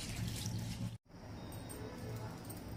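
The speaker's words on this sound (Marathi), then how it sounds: "तर मी स्वच्छ असे 2 पाण्याने धुवून घेते तांदूळ" Rice being washed in water, with continuous sloshing and swirling splashes that cut out for a moment and then resume at a similar close, moderate level.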